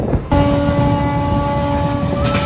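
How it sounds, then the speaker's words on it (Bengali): Passenger train rolling along after departing Kanthi station on the way to Digha. A loud, steady rumble and rattle from inside the coach, with a sustained tonal whine starting abruptly near the beginning and holding throughout. "এতক্ষণ ওয়েট করাবার পরে ট্রেন ছেড়ে দিয়েছে কাঁথি থেকে"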